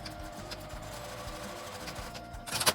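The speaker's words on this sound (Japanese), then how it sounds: "縦に縫います。" A sewing machine stitches a straight seam through fabric for a double ribbon hair tie, running steadily and close for nearly three seconds before a louder rattling burst at the end.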